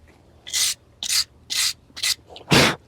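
Rubbing a finish by hand onto chainsaw-carved, partly burnt wood: six separate scrubbing strokes, each roughly a quarter second long, with short pauses between them, close and fairly loud. The last stroke is the strongest.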